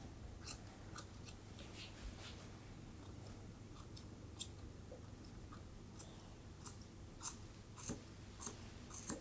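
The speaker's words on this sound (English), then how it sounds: "popping my scissors on a 45 degree angle, I'm then going to scissor around her foot." Grooming scissors snip quietly in short, scattered clicks around a cavoodle's foot, with pauses between cuts, over a soft background hum.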